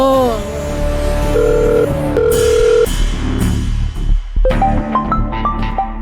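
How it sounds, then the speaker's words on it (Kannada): A telephone rings in a Kannada TV serial scene, giving two steady electronic ringing bursts over dramatic background music and sound effects. "ಆಗ್ಲಿಂದ ಫೋನ್ ಬಡ್ಕೋತಾ ಇದೆ"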